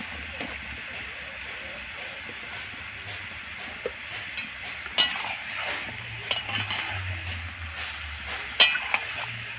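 Meat seasoned with salt and turmeric fries in a pan with a soft, steady sizzle, while a spoon stirs and scrapes it with occasional clinks and knocks up close.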